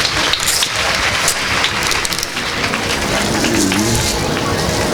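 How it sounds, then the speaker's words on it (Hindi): Audience applause at a Shrimad Bhagavat katha gathering in Varwade, Maharashtra: dense, loud, sustained clapping that fills the whole stretch, with a voice faintly underneath. "जोरदार टाळ्या वाजवा बरं एकदा."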